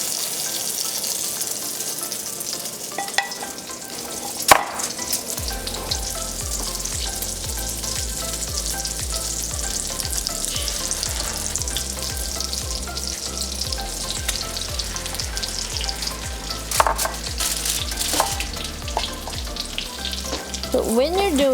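Tortang talong, an eggplant coated in beaten egg, fries in a pan with a steady loud sizzle and crackle that runs throughout, with occasional clinks and scrapes of a utensil against the pan.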